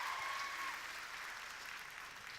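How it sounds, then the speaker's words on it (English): Faint, steady applause from a large student audience at a leaders' congress hall, a continuous soft wash of clapping with no voices. "I'll tell her she got a round of applause from all you lovely people"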